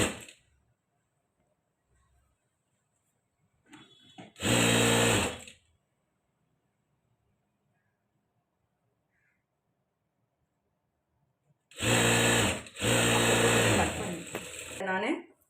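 Sewing machine stitching a princess-cut blouse, running in two loud bursts: a short run of about a second, then a longer run of roughly three seconds after near silence, close and mechanical.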